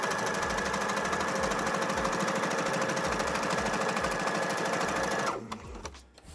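A sewing machine top stitches along a seam with an edge foot, running as a steady, loud, fast rhythmic whir for about five seconds before stopping abruptly, leaving a few quiet handling sounds.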